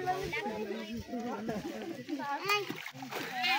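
Water splashes and sloshes as people swim in a river, close by, under near-constant chatter from adults and children.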